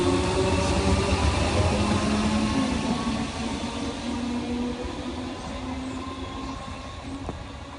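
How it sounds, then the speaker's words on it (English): A Great Northern local train pulls away from Winchmore Hill station on the last service of the day, its steady rumble and wheel noise loud at first, then slowly fading as it draws off. "Last train of the day is now going."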